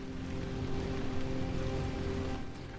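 Rain pattering steadily on surfaces in the video game Pacific Drive, a dense continuous hiss over a low engine-like hum, with no voices.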